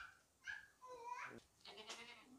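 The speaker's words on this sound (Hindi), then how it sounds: "ये देखें बहुत ही ज़बरदस्त बकरा है" A stout male goat with a broad neck and chest bleats in a couple of short, wavering cries close by, with brief gaps between them.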